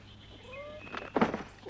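A cat meows in a frightened indoor setting, a rising then falling cry followed by a louder, harsher caterwauling yowl near the end, fairly close.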